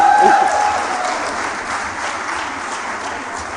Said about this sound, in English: Let's give another round of applause to Mama NLB.